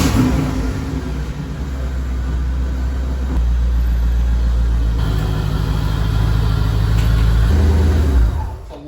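A 1985 C4 Corvette rumbles close by as it is driven slowly into a garage, its engine holding a deep, steady idle with slight throttle swells before it drops away at the end.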